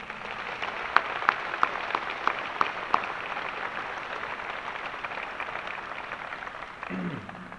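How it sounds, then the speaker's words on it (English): A crowd applauding at a college basketball celebration night in an arena, a steady wash of clapping with a few sharper individual claps early, fading as a voice begins at the end. "let's give them one more round of applause"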